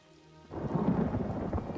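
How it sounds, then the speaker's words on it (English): A thunderstorm in the video game ESO Morrowind breaks in after a brief tonal lead-in: heavy rain with a deep, rolling thunder rumble that swells loud and close. "If only this damned storm would go away."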